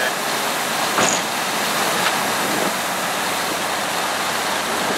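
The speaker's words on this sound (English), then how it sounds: "Definitely windy today." Wind roars steadily around a 1971 VW bus on a drive, a loud constant broadband rush with a couple of brief thumps, no speech audible.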